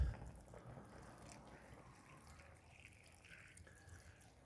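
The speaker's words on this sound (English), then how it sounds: "Now I'm gonna add some water." Water poured into a pot of vegetables during home cooking, a soft steady splashing stream that runs continuously and fades slightly toward the end.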